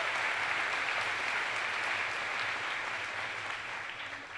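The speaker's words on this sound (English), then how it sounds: "Let's give Patty one more round of applause and thank her for her amazing work" An audience at the Peace Over Violence Denim Day event gives a sustained round of applause, a dense, even patter of many hands that fades slightly toward the end.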